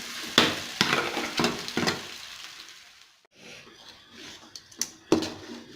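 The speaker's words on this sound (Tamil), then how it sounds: "இப்போது இந்த கிழங்கு எல்லாம் நல்லா கலக்கி விட்டுக்கோங்க. அந்த மசாலா எல்லாம் ஒட்டணும்." Crushed tapioca is stirred with masala in a sizzling pan. Sharp scrapes and clacks of the spoon come in a quick run, then a brief pause, then softer stirring with a few more knocks.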